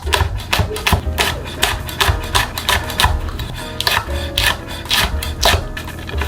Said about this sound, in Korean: 홍고추도 동글동글하게 자를게요.